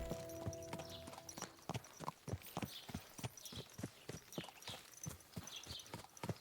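Horse hooves clip-clop at a steady walking rhythm in the video game Kingdom Come: Deliverance 2. The sharp, regular beats are clear and close, with no talk over them.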